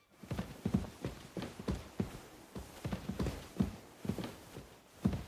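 Rhythmic clip-clop of horse hooves walking at an even pace, fairly quiet and steady throughout, from the video game Kingdom Come: Deliverance II.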